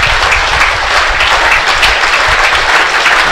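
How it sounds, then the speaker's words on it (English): A cricket crowd at a Worcestershire Rapids vs Somerset one-day semi-final applauds a batsman reaching his fifty, with dense, steady clapping that stays loud and even throughout. "And applauded warmly by the crowd."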